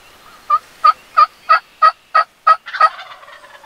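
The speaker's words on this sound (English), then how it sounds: "these guys enjoy listening to these birds gobble directly above the blind" Wild turkeys gobble directly above a hunting blind during a Pennsylvania spring turkey hunt: one loud, close gobble of about eight rapid rattling pulses with a trailing warble, and no talk.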